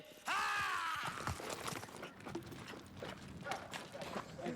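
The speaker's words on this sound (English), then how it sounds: "We got the horse to move a little bit that time." Horse hooves clip-clop on a film set for the Last Crusade horse scene, a few loud irregular steps near the start, then mixed with shuffling noise and background voices.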